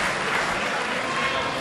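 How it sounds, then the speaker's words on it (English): Crowd at a pro wrestling heavyweight championship match applauding, a loud continuous roar of clapping and crowd noise filling the whole short stretch, with voices mixed into the din. "What a great round of applause."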